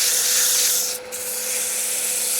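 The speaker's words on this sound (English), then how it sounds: "So we're going to start out with a 150 sandpaper." Dry wood spinning on a lathe is sanded with 150-grit sandpaper at about 600 rpm, giving a continuous close, airy rubbing hiss with one brief dip midway.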